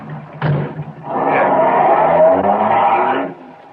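A car, in a 1950s Dragnet police radio drama, with a thump like a door shutting near the start, then a steady engine rising as it pulls away, loud and close throughout.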